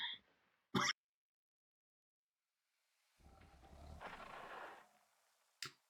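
A person clears their throat and coughs during a streamed game session, a sharp burst near the start, a longer rough rasp in the middle and another short catch at the end, close to the mic with silence between.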